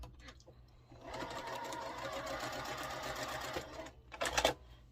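A sewing machine stitches small quilt-block fabric pieces together for a nine-patch, a fast, even mechanical whir lasting about three seconds, with brief handling noises before and after.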